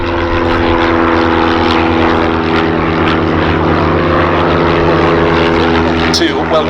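A civilian aerobatic display team's propeller aircraft at the Duxford air show, a steady loud engine drone filling the whole stretch, with a crowd and announcer voices faintly underneath.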